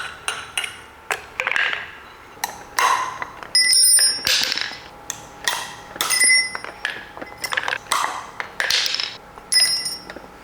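Steel chisel being hammered against a transmission seal on a 1956 Chevy 4-speed, a long string of sharp metallic clinks and rings at an uneven, steady pace, close and loud with no talking.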